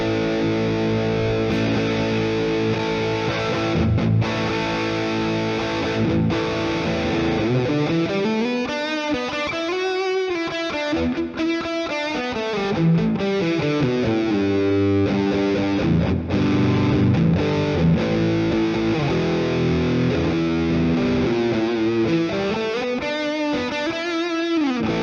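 An electric guitar plays through a Voxerator Morpad community amp model on a SmartPedal or Proteus, with a sustained, distorted tone whose notes glide and bend over a steady, saturated wash.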